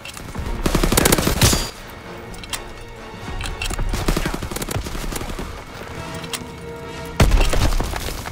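Submachine gun fire from a Call of Duty WW2 match, with loud rapid bursts near the start and again near the end, and scattered shots and clatter between them.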